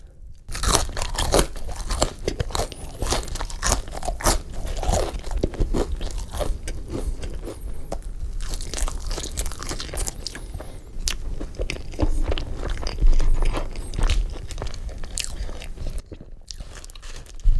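Crunchy well-done fries chewed close to the mic, with steady bites and crunches repeating over the whole stretch, loud and with no talking.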